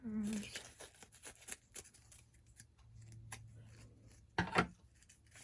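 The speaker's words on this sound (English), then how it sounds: "And scissors." Scissors snip through fabric repeatedly in short, crisp cuts at close range, with a brief voice at the start and a louder rustle near the end.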